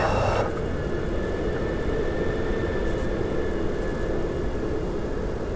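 Steady, loud broadband engine drone of a helicopter flying in a flight simulator game, continuous and even throughout with a brief louder onset at the start.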